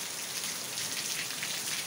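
Steady rain falls outside in Assaré, Ceará, a dense, even hiss of drops pattering on surfaces, fairly loud and constant with no voices.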